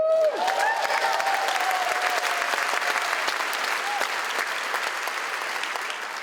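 Comedy club audience applauding a stand-up comic at a festival gala, a dense, steady wash of many hands clapping from start to finish with a few cheers and whoops on top, slowly easing off.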